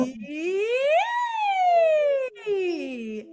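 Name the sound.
voice imitating a siren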